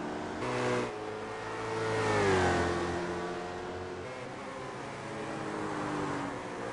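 Race cars accelerate through the final turns of a race, their engines rising and revving in clear sweeping pitches, loudest in the middle as one car swells past, then steadier mid-range engine drone without talk.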